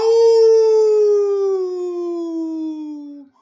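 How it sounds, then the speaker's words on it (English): A single long, clear howl, loud and close, holding a steady tone that slowly sinks in pitch before cutting off. "A howl echoed through the park."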